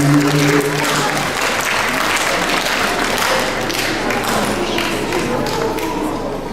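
An audience at a school cycling-safety event claps steadily in sustained applause, loud and dense throughout, with a brief voice near the start.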